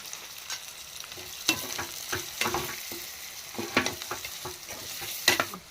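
Spice paste with coriander powder and garam masala frying in a pan, a steady sizzle broken by repeated stirring scrapes and clacks, close and clear with no talk.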